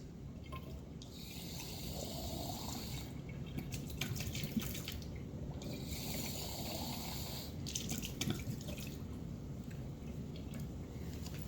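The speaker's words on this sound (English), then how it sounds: "We're going to rinse it out." Lab glassware from an ethyl ethanoate procedure being rinsed under a running tap, with a steady stream of water splashing and trickling in a sink across the whole span, nearby and moderately loud, with no talk.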